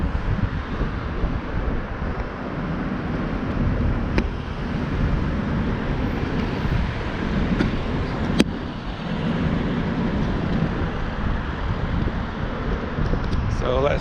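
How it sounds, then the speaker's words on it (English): Strong wind by the Menai Strait on Anglesey buffets the microphone in a continuous loud low rumble, with a couple of sharp knocks. "With a bit of luck, the wind won't be quite so strong on this side"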